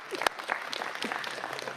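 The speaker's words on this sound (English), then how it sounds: "give yourselves a round of applause" Audience applause at a Prime Minister's homebuilding funding announcement, a fairly quiet, brief patter of clapping with one sharper clap near the start, no talk over it.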